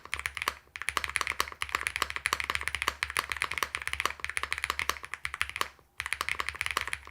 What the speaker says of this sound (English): I love this chalky sound that I'm hearing. It could be the ABS PBT keycap as well.